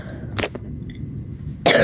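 Two sharp coughs, the first short and close, the second louder and lasting to the end, separated by a quiet gap with faint background.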